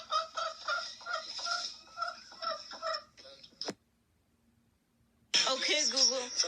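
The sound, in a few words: chicken clucking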